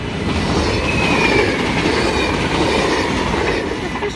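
A train passes close by on the line at Susteren, a loud steady rumble of wheels on rails with rhythmic clatter and a faint high wheel squeal drifting over it, no talk.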